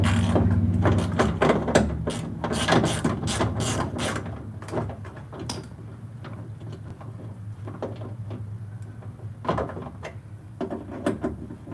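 A ratchet loosens bolts on a car door during power window motor and regulator replacement, with rapid clicking bursts up close, followed by scattered clicks and handling noises.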